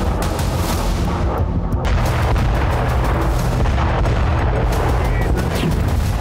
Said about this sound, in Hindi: अवदीपका में रूसी सेना ने यूक्रेन के टोर M2 सैम मिसाइल सिस्टम को ध्वस्त कर दिया